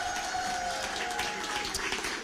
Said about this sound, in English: A big round of applause for Governor Ned Lamont, who's here.